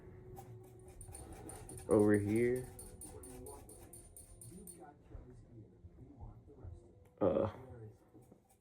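A dog gives two short, high, wavering whimpers several seconds apart, close by, while a person talks quietly nearby.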